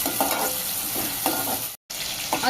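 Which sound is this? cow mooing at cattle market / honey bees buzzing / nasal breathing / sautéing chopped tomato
sautéing chopped tomato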